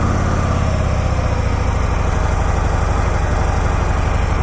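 A 2018 Harley-Davidson Sport Glide with its stock exhaust idles steadily, a loud, close, continuous low rumble with an even pulsing beat running through the whole stretch and no talking over it.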